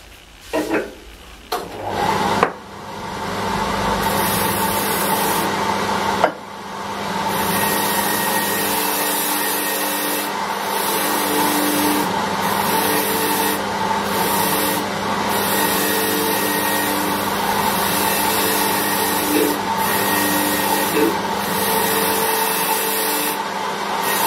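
Jewellery ring being polished on a rotary polishing brush, a steady loud motorised whir with a few bumps at the start and brief dips as the piece is worked against the brush, continuous throughout.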